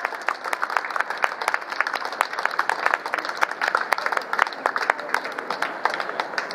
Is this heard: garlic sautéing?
no